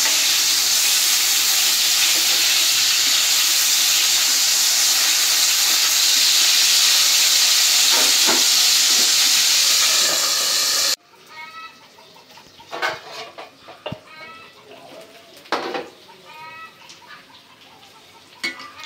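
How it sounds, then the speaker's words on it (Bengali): Fish paturi, fish wrapped in leaf parcels, frying in a pan in a village kitchen: a loud steady sizzle and hiss for about ten seconds, then it abruptly drops to quieter crackles and scrapes as the parcels are turned over. "এখন পাতুরিগুলো উল্টিয়ে পাল্টিয়ে রান্না করে নেব।"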